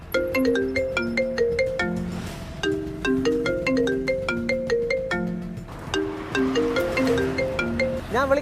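A mobile phone ringtone plays a bright, plinking synthesized melody that repeats in short phrases at moderate volume for over eight seconds, with no talking over it.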